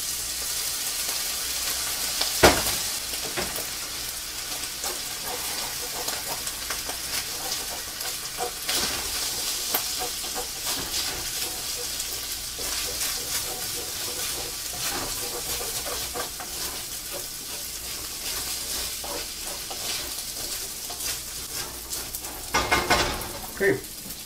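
General Tao chicken fries in a pan with soy sauce, a continuous close crackling sizzle with occasional scraping stirs and clatters, while someone talks over parts of it.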